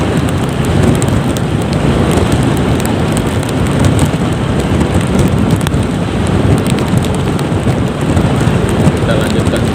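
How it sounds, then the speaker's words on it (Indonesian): Heavy rain pours steadily during a journey in Simeulue, Aceh, a loud, dense, continuous hiss of drops with low rumbling underneath. "Ini turun hujannya nih, pertama hujan."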